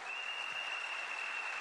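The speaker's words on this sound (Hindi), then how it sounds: "जोरदार ताली ब्रिट वर्ल्ड वाइड के लिए" Steady, dense clapping from a large audience at a business presentation, an even wash of hand claps with a faint constant tone running underneath.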